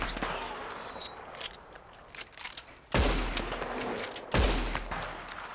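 Gunshots in the Western video game Red Dead Redemption 2: two loud, sharp blasts about a second and a half apart with ringing tails, after a stretch of quieter scattered clatter and background action.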